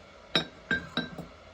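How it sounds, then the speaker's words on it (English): Glassy clinks and taps as a light bulb is screwed into a Scentsy wax warmer, about four short bright chinks spaced across a second, close up and fairly quiet with no talking. "I'm gonna screw in the light bulb"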